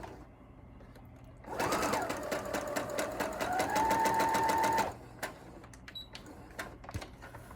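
Sewing machine stitching quilt patches together for an Ohio quilt block, a loud rapid steady whirring run of about three seconds with a rising motor whine, then stopping, followed by faint small handling clicks.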